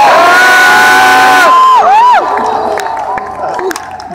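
A large rally crowd in the Bronx erupts in loud, sustained shouting and yelling that then fades down, close and dense, with baseball fans booing mixed into the roar.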